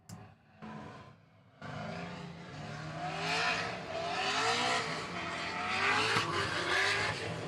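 Drift cars on a lead and chase run at Bristol Motor Speedway, with loud engines revving hard and tires squealing in a continuous, rising roar after a brief choppy start.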